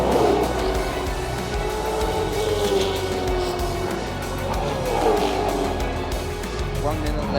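Race cars drive through turn 1 chicane at the Adelaide 500 street circuit, a steady engine roar with two rising engine sweeps passing by, under continuous talk.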